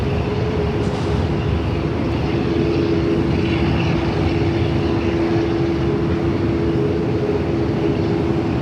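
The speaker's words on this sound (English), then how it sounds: "we're in for a double Jetstar here. 787 and a 321 just rolling by there" Two Jetstar airliners, a Boeing 787 and an A321, rolling by at Sydney Airport, making a steady broad engine drone with a clear humming tone, loud and constant, without any talking.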